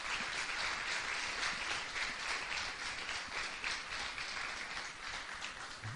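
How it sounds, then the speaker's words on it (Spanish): A church congregation claps together in a steady, continuous round of applause, heard from a distance and fairly soft, with no talking over it. "¿Cuánto le puede dar un aplauso al Señor en este momento?"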